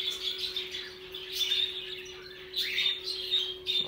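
Lovebirds chirp and tweet in quick high bursts over a steady low hum, the calls coming in clusters with brief lulls between.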